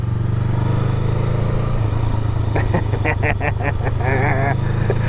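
A Honda Grom motorcycle engine drones steadily throughout, then revs up with a rising and falling pitch, close and loud.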